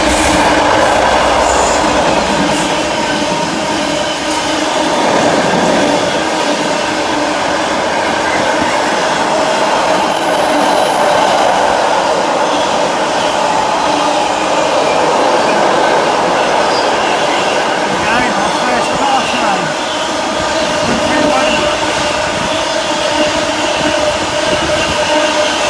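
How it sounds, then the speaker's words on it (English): A Class 66 diesel locomotive hauling a long car-carrier freight train passes close by, with a loud, continuous rumble of wagons, rhythmic wheel clatter and occasional squeal throughout. "We've got a Class 66 car train coming through."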